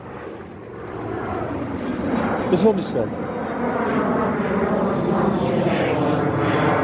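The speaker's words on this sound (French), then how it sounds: "Et les avions, ça part." Aircraft engines drone steadily at the 24 Hours of Le Mans, a broad roar building slightly over several seconds with a brief louder burst midway, heard under continuous speech.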